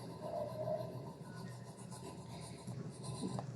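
Soft, continuous rasping of fine sandpaper rubbed back and forth over cardboard, fairly quiet and steady with no talking.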